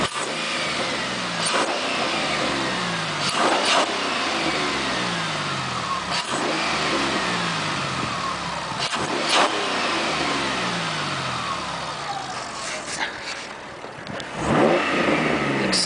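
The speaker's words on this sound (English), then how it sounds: "See the engine, how it sounds too." A 2006 Ford Mustang V6 fitted with GT take-off mufflers revs repeatedly. It climbs and falls in several loud, close sweeps over about sixteen seconds, with a throaty exhaust note and idle between the revs.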